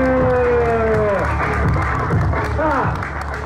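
A crowd cheers and claps for the winner of a competition, loud and continuous, with voices whooping and sliding shouts rising above the steady wash of applause.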